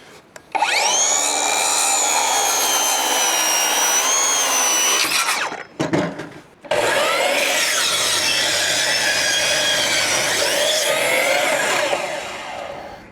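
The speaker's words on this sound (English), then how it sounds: "I'll use my skill saw on this one." A circular saw rips through lumber for building sturdy saw horses, a loud continuous whining cut of about five seconds, a brief pause, then a second long cut that winds down near the end.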